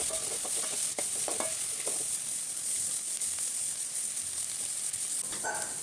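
Sliced big onions, with a pinch of salt added, sizzle and sauté in a pan under steady frying hiss, with occasional stirring scrapes and clinks throughout.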